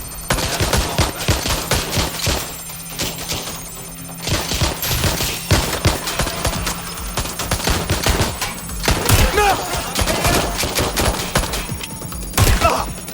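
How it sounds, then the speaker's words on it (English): Rapid gunfire fills a shootout in the video game Watch Dogs Legion, with dense automatic bursts and single shots crackling continuously and loudly over a rumbling background, with scattered shouted voices. "They're shooting at us!"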